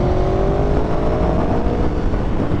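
A motorcycle engine revs hard close by, a loud continuous roar with rising pitch sweeps as it shifts quickly through gears.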